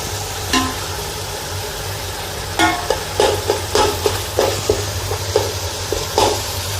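Mashed bottle gourd frying in a pan, with a steady low hum beneath and a run of repeated scraping, tapping strokes of a spatula against the pan, fairly close and loud.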